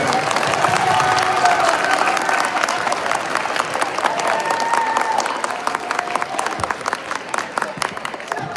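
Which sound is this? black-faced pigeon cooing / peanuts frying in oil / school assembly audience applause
school assembly audience applause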